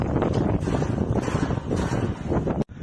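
Strong wind gusts in Norilsk roar across the microphone, a loud, rough, continuous buffeting that swells and surges and then cuts out briefly near the end.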